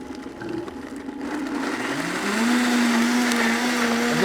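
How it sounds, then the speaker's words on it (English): A Vitamix blender whirs through an onion sauce, its motor rising in pitch and loudness as it spins up into a steady high-speed roar, close and with no talking. "I love a Vitamix."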